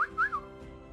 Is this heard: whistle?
yes